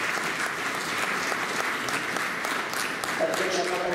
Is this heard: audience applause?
yes